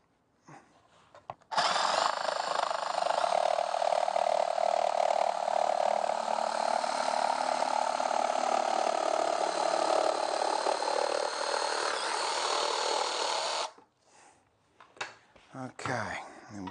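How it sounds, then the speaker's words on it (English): A jigsaw cuts through timber clamped in a vise with a loud, steady buzzing rasp that lasts about twelve seconds, followed by brief clatter and handling noises. "I'll just get the jigsaw here."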